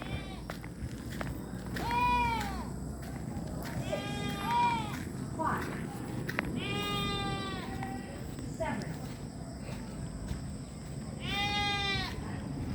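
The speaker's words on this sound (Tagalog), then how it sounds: "Yan ang kambing, me." Goats bleating on a farm, several loud nearby calls repeating every second or two over a constant background hum and rustling, with no talking in between.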